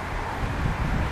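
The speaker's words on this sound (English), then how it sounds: "It's windy." Gusts of wind buffet an outdoor camera microphone, a steady low rumble throughout with slight swells, no talk.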